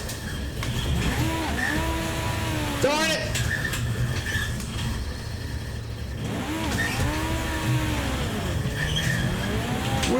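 Race car engines whine in a racing simulator on a Prosimu T1000 3DOF motion rig, their revs sweeping up and down as cars shift gears nearby. Someone talks briefly over the steady engine roar.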